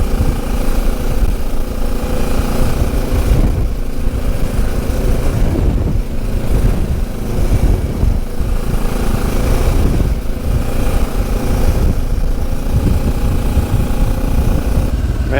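A QJ Motor SRT 700 SX motorcycle engine runs loud and close, a steady throaty drone with slight rises in revs as the bike pulls away, with no talk over it.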